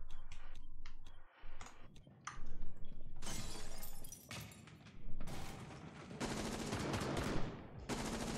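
Gunfire in a PC video game, with sharp, irregular shots and bursts, some crackling like breaking glass, loud at times and separated by brief quieter gaps.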